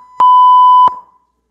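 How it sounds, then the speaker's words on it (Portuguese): A single steady electronic beep from the InShot editing app's sound effects, loud and clean, lasting under a second with a sharp click at start and end, alone in silence. "aqui vai ter o bip, que é efeito popular"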